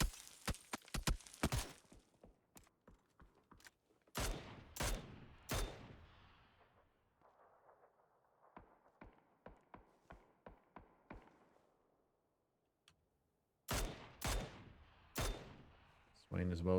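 Sharp bursts of gunfire from the video game PUBG during a European scrim match, single shots and rapid volleys clustered at the start and end with quieter shots in between, under a caster's commentary.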